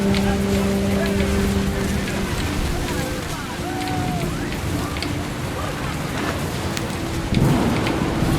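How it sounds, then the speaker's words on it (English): Heavy rain pours steadily in What Remains of Edith Finch, with rumbling thunder beneath it and a louder burst near the end; a voice talks over the storm in places. "The rain came down in buckets then, but no one seemed afraid that nature might destroy the tent our dad had crudely made."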